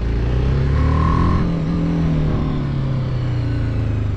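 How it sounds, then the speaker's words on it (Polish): A motorcycle engine on its original stock exhaust hums steadily and then pulls harder as it accelerates, a continuous close drone with rising and falling pitch and no talking. "Czyli cichutki to jest motocykl."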